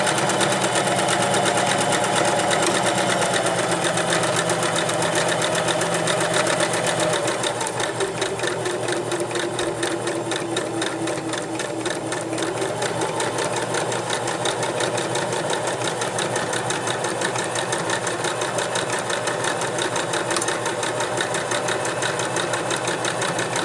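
A sewing machine runs continuously and loudly, stitching a curve around a duck-shaped pillow with an even, close mechanical hum and rapid needle rhythm throughout.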